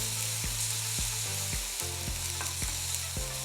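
Chopped tomato going into hot oil in a pan for baby food, a constant close sizzle with regular clinks and scrapes of a utensil stirring about every half second.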